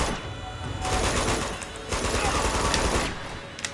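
Rapid automatic gunfire and bursts of shots from the video game Uncharted 2 Among Thieves, a dense continuous fusillade across the whole stretch with brief lulls, loud and close.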